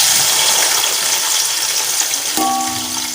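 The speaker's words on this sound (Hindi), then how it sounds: "सबसे पहले प्याज, ये तकरीबन 2 से 3 अदद प्याज है, हमने चॉप कर लिए थे, वो डाल रहे हैं" Chopped onions, about two to three, hit hot ghee in a pan with a sudden loud sizzle partway through, over a steady hissing background of frying; no voices.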